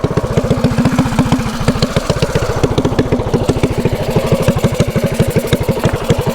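A mini bike engine running rough, a loud close rapid putter with uneven clattering pulses and a lumpy, stumbling rhythm, with no one talking.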